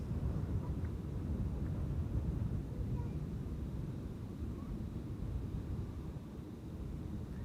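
A low, steady roar of an airliner landing at Amsterdam Schiphol rumbles throughout, dense and fairly distant, with wind noise mixed in.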